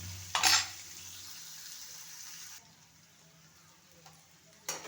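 Onions frying in a pan as the base for a Telugu drumstick milk curry, with a faint, steady low sizzle broken by two short bursts of stirring clatter at the start and end.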